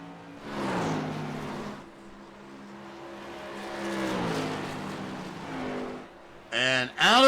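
Tour Mods race cars battling for position at Phoenix, engines rising and falling as cars pass close by, with a sharp loud roar near the end, under an announcer's race commentary.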